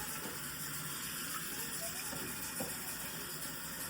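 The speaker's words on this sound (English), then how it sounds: "So we're gonna add some water. Remember, make sure that it's cold water." Cold water pouring into a pressure cooker while making costillas de salsa verde, a steady hissing gush that runs evenly for the whole stretch, close and fairly loud, with no talking over it.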